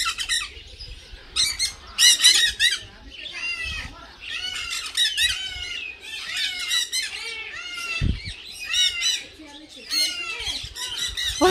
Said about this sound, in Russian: Попали в мир попугаев.